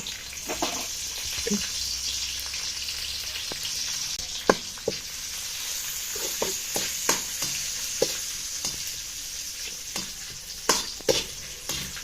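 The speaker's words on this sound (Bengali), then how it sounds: "তেল দিয়ে আমি এখানে বাদাম আর কিশমিশটা ভেজে নিব" Nuts and raisins fry in oil in a wok for semai, a soft continuous sizzle broken by sharp clicks and scrapes from stirring at irregular intervals, close and fairly quiet.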